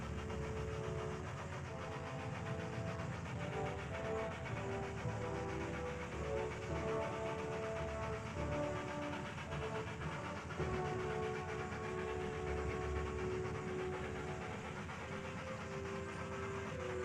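A small Highland railway train hauling coaches runs steadily, a continuous rumbling engine drone and rolling wheel noise at moderate distance with a faint tonal hum, no talking.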